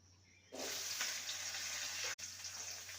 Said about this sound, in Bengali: ওই তেলে ভেন্ডিকে ভেজে নেব।